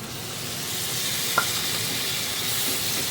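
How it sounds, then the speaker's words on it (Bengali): Chopped tomato sautéing with spices in a pan gives a continuous close sizzle and hiss, with one brief utensil tap partway through, no voices. "মশলার সাথে টমেটোটা ভালোভাবে কষিয়ে নেব।"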